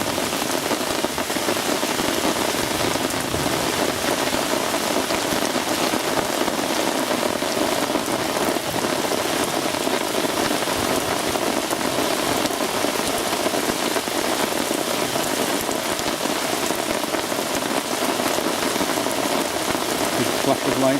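Heavy monsoon-like rain pours down by the River Swale during a thunderstorm, a dense, unbroken roar, pattering hard on surfaces throughout without letup.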